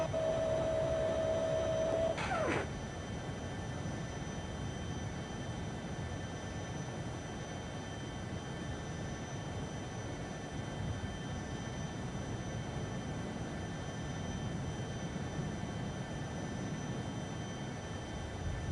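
Tupolev Tu-154M jet taking off from Incheon with one engine running: a steady, loud broadband roar holds throughout, with a brief tonal whine and a short click near the start, and no talk.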